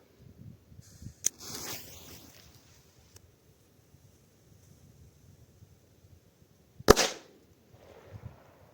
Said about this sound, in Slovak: Ide Pirate Bomb.